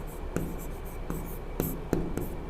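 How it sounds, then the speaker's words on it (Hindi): Someone writes an equation by hand, with scratchy pen or chalk strokes and a few sharp taps, close and fairly quiet, with no talking. "तो यहाँ पर नीचे मैं लिख देता हूँ"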